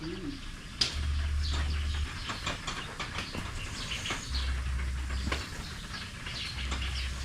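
Low, soft cooing pulses recur a few times against a steady background rumble, like pigeons nearby.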